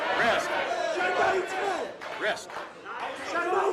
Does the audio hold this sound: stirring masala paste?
no